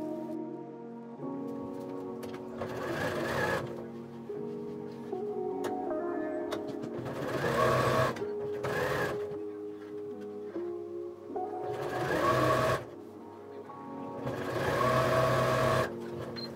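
A sewing machine runs in bursts, stitching rows of a disappearing pinwheel quilt block together with a rapid mechanical whir that starts, pauses and restarts several times up close.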